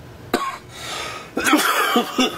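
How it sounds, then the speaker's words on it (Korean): Several harsh coughs, close and loud: one sharp cough, then a burst of three or four rapid coughs in a row. "기침 많이 나냐"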